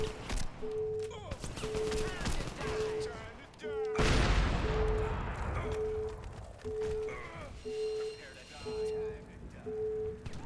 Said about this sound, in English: No, just regular grenades.